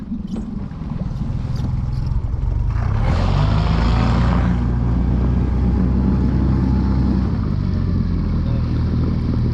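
A small Ural motorboat's engine runs steadily and loud throughout, with a brief surge of rushing water partway through, heard close from on board.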